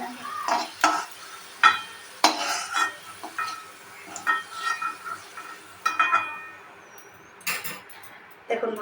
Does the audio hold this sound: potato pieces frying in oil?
yes